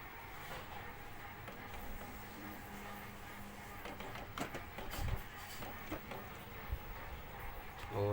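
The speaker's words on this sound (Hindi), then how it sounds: "और प्रिंटर हमारा ऑन हो गया है" Canon G4010 inkjet printer powering on after an error 1430 fix, a faint mechanical whir with soft clicks and clunks as the carriage moves, a louder knock near the end, quiet throughout with no voices.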